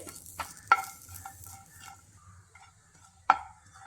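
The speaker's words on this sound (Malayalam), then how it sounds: "കുറച്ച് സമയം കൂടി നമുക്കിത് ഇളക്കി കൊടുക്കാം" Dried chilies and grated coconut roasting in a pan, with a soft dry crackle under two sharp scrapes of a spoon against the pan, near and quiet with no talk.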